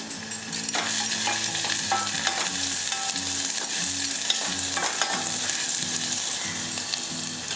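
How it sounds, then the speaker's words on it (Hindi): Steady, loud sizzling of garlic frying in hot oil, with occasional stirring scrapes throughout and no voices. "तेल टिके गरम करिबा। आगे टिके रसुण पके"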